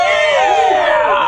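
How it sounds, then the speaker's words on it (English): A crowd cheers and yells at a fraternity house gathering, a loud, brief burst of many overlapping voices whooping together. "The crowd cheers."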